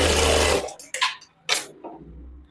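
A tailor's sewing machine stitches a tucked belt blouse: an opening whirring run of stitches stops abruptly, followed by a few short, sharp bursts of machine noise.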